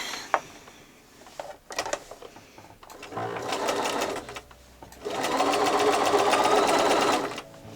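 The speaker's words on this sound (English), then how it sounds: "Just going to turn the stitch length up for this, seeing as we are essentially basting." Sewing machine basting the layers of a quilted campervan cushion with long stitches: a brief start, then two fast whirring runs of rapid needle chatter, close and loud, with no talking.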